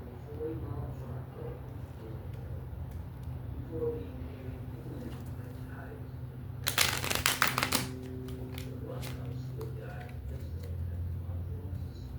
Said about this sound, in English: Do you like the way that I'm shuffling?